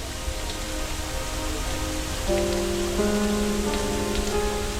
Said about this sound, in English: Large sections of the neighborhood are soaked by this peculiar shower.